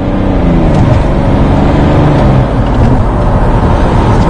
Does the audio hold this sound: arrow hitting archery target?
no